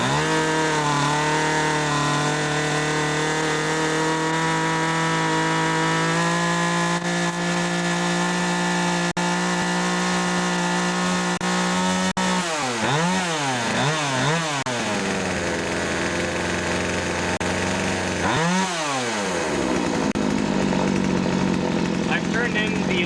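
A Poulan chainsaw engine runs steadily and loudly during carburetor low-screw adjustment, holding a buzzing drone before surging into several sharp rising and falling revs near the end.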